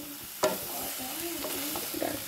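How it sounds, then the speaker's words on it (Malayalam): Paneer cubes frying in a pan for paneer butter masala, giving a continuous close sizzle with a sharp clack of a utensil early on and light stirring throughout. "ഇത് വേഗം ഫ്രൈ ആയി കിട്ടും കേട്ടോ ഗൈസ്"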